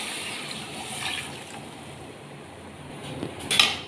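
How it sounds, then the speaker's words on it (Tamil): Water is poured over rice in a pot while making pongal, a soft steady splashing and trickling that swells and fades, with a faint clink of the vessel near the end. "அதனால் ஃபஸ்ட்டு வந்து ஒரு பங்கு தண்ணியை ஊற்றலாம்"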